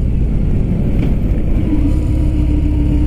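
A 2018 Harley-Davidson Fat Bob motorcycle downshifts while riding, with a loud, steady low engine rumble and wind noise throughout and a slight tonal shift near the end. No voices.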